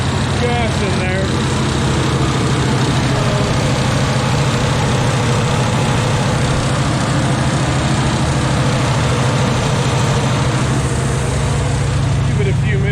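An engine fitted with a Rochester Quadrajet carburetor idles loud and steady right up close, a constant low rumble with an even pulse that holds unchanged throughout.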